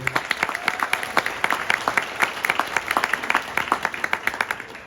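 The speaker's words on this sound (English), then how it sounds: "So again, round of applause to you girls." Applause from guests at a girls' high school soccer banquet, a moderate round of individual claps heard distinctly and fairly close, steady without talk.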